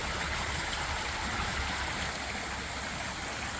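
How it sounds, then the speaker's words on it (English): Steady rush of water pouring into a culvert after rain, a constant broadband stream-like flow that stays even and fairly close throughout, with no voices. "The amount of water going into the culvert"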